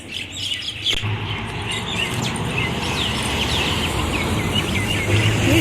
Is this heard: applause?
no